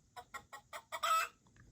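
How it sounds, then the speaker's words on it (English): A hen clucks in a quick series of about five short, evenly spaced clucks, then a louder, longer drawn-out squawk, heard close and alone on a farm. "Hen."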